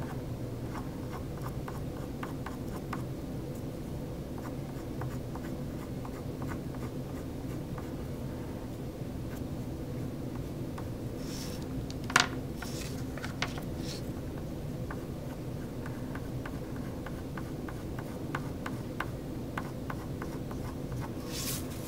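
Oil pastel dragged across paper while drawing a braid, a soft, continuous waxy scratching with small strokes and occasional sharper taps, close and quiet, no talking.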